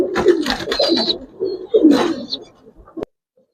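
Giribaz pigeons in a loft coo in low, throaty bursts, close and loud, with several calls in quick succession before the sound cuts off abruptly near the end.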